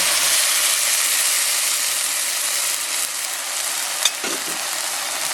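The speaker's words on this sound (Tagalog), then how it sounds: "ito yung broth na pinaglagaan ng chicken at pork. So ilagay natin." Chicken-and-pork broth poured into a hot cooking pot for macaroni sopas, producing a steady, loud broadband sizzling hiss that runs the whole time with a brief louder splash near the end and no talking.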